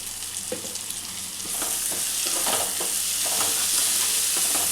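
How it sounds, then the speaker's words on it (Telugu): Chili-spiced paste fries hard in hot oil for a fish curry, a close, steady sizzle that swells louder halfway through, with a few scrapes of stirring and no voices. "ఈ పేస్ట్ మొత్తం మంచిగా ఆయిల్ పైకి తేలేంత వరకు ఇలా మంచిగా వేయించుకోవాలి"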